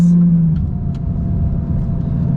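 A Lamborghini Gallardo engine drones steadily while driving, a close, continuous mechanical hum heard from inside the car with no talking.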